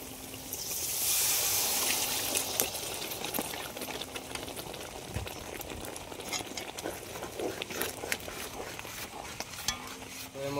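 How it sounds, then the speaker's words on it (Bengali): Water splashes into chicken biryani masala frying in a pan, and a steady sizzle carries on under stirring and spoon scrapes against the metal, with no one talking. "আমরা এর মধ্যে হালকা পরিমাণে জল দিয়ে দেবো"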